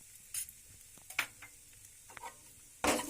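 Crushed peanuts roasting with daliya in a home kitchen pan give off soft, sparse stirring scrapes and faint sizzle, ending in a louder burst of stirring.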